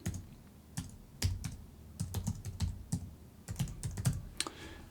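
An email address and password being typed on a computer keyboard, a quiet, close run of irregular key clicks in short bursts with brief pauses.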